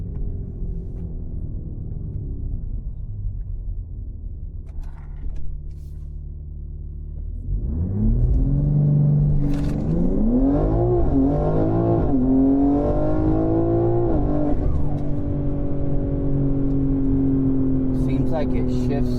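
A car with a custom-tuned G80 transmission idles, then accelerates hard with rising engine pitch that drops at each gear shift, climbing again through several gears, loud and close from inside the cabin.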